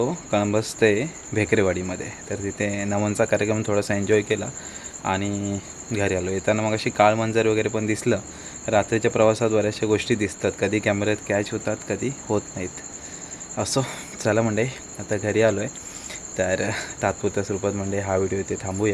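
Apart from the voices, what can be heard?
crickets chirping at night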